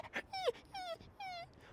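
A dog whimpers in a series of three high, drawn-out whines, each tailing downward, close and fairly quiet, with brief pauses between them.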